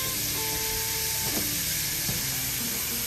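Onions sauté in sausage grease in a pan while stuffed peppers are being made, a steady close sizzle and hiss with faint stirring scrapes.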